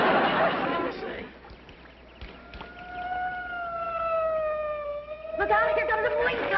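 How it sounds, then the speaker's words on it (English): A police car siren wails from a 1960s sitcom scene, its rising tone sliding past over street noise while people talk before and after. "Look out, here comes a police car!"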